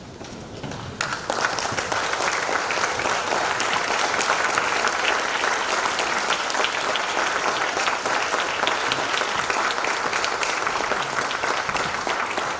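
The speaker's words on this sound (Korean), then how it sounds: "다 일어서셔서 뜨거운 박수로 격려해 주시면 감사하겠습니다" At a Chongshin University development-plan presentation, a standing audience bursts into warm applause after a quiet first second, then keeps up dense, vigorous clapping at an even, loud level for the rest.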